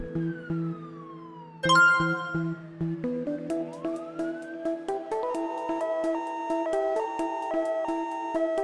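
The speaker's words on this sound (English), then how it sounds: "Police car." A cartoon police car's siren plays as bright synthesized wailing and stepping tones, with sweeping pitch glides, beeps and rapid alternating notes, clear and moderately loud without any voices.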